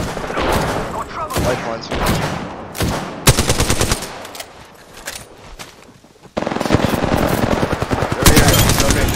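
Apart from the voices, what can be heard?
gunfire in a video game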